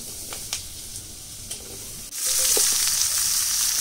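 Chili and cumin hit hot oil for a tempering; after a quiet start with light taps, a sudden loud hissing sizzle bursts out and carries on steadily.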